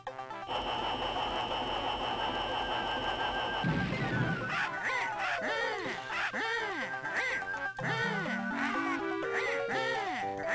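A bird in a retro video game gives a string of repeated synthesized duck-like quacks, loud and electronic, layered over game music and bleeps with no talking.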